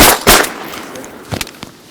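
Shotgun blasts on a duck hunt, one loud close report near the start followed by a couple of softer, more distant shots later, with outdoor background noise.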